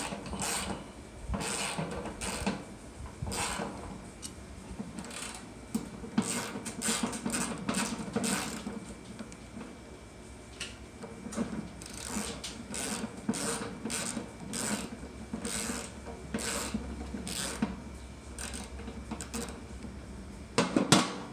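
Close, repeated clicking and grinding of a wrench working loose the bottom bolts on an HVAC blower motor, in irregular bursts over a low steady background hum, no talking.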